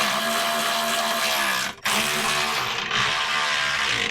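A power tool whirs loudly while tightening the bolts of a Club Car DS trailer hitch, a high-pitched buzzing run that briefly cuts out near the middle before spinning back up and continuing.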